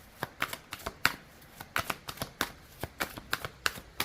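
Tarot cards are shuffled and drawn by hand, making quiet, close, crisp flicks and snaps in an irregular quick rhythm with no speech.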